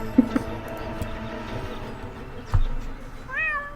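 A cat meows in the point-and-click adventure game Deponia, a short mewing call near the end rising in pitch, heard over a low game background hum with a few soft clicks.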